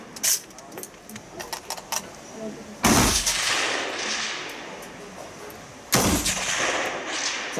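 Two loud, close rifle shots from an Stgw 57 at an outdoor 300 m field shooting range, each a heavy blast with a long rumbling echo, spaced about three seconds apart, with people talking and some earlier clicks in the background.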